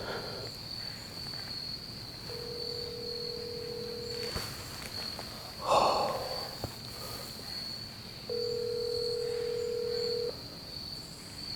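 Telephone call placed to a father hunting in a low-signal area of North Carolina: two long, steady ringback tones sound clearly, separated by a pause and a brief rustle, over a constant high electronic whine.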